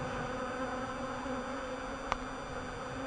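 A hornet and a honeybee trapped together in a bottle at an apiary buzz in a faint, steady drone with one brief tap.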